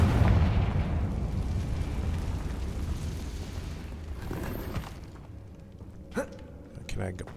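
Confringo, an explosive fire spell in Hogwarts Legacy, lets off a loud booming blast that rolls into a long rumbling decay, followed by a few smaller pops and crackles.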